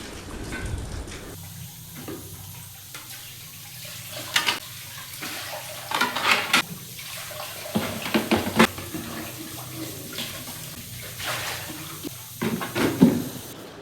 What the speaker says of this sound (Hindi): तो यहाँ पर बर्तन धो लूँगी